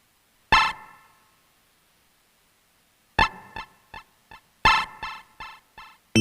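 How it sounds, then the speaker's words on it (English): A Game Boy 2 drum track from Kit 1, sharp electronic percussive hits with bright buzzy tones in a sparse pattern, a single hit, a pause, then quick clustered rhythmic bursts, close and clear without talk. "I was looking around in the drum tracks and I found this one. It's the Game Boy 2 in Kit 1."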